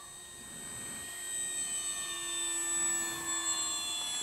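Steady high electric whine of a Hawker Tempest 800mm RC model plane's motor on a 3S battery during its maiden flight, holding a constant pitch at low throttle with a faint rushing airflow underneath.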